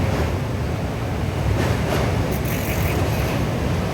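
A broad, steady rumble fills the whole stretch as a train crosses a long bridge over a very large river, heard as a constant loud roar with faint clatter and no talk.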